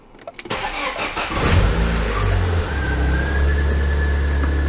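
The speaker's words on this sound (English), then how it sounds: "I hope the engine will start though." A BMW E36 316i touring cranks with a few quick starter clicks and whirs, then catches and settles into a close, loud, steady idle with a low engine drone and a faint high whine.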